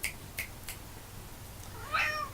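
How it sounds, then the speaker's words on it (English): A house cat meows once near the end, a clear, fairly close cry after a few faint clicks and rustles in a quiet room. "I still have a cat wandering around."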